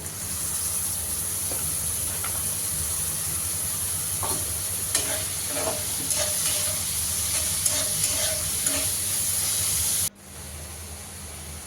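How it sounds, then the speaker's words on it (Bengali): Fish and onions frying in oil in a cooking pot, a loud, constant hissing sizzle with a few light stirring clinks partway through, then an abrupt drop to a quieter hiss near the end. "পেঁয়াজ দিয়ে ভুনা করব মাছটা।"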